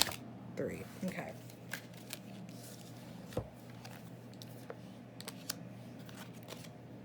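Tarot cards being shuffled and drawn during a reading, giving soft papery riffles and flicks with a few light taps, close and quiet under a low steady background hum.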